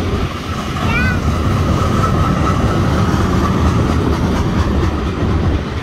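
A BNSF mixed freight train with coal cars rolls past close by, a loud, steady roar and rumble of wheels, with a brief squeal near the start and people talking under the noise.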